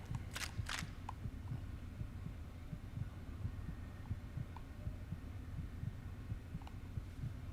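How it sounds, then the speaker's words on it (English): A heartbeat sound effect from Fallout: New Vegas gives steady, quiet, low thumps in a continuous rhythm over a background hum, with a few sharp clicks scattered through it. "But this heartbeat in my ears."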